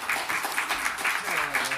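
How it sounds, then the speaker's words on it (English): An audience at a conference session on circular economy innovation claps in a brief, fairly quiet burst of applause. "Let's give him a round of applause."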